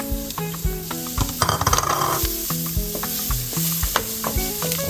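Onions sizzling as they go into a hot, dark roux for Cajun crawfish étouffée, with steady frying hiss under repeated scraping stirs and knocks of a spoon against the pot, close and fairly loud.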